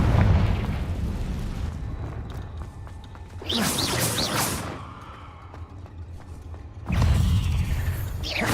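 A Confringo fire spell blasting in a wizarding video game inside a cave, with two loud, roaring bursts of explosion separated by a quieter rumbling, mechanical-sounding interval.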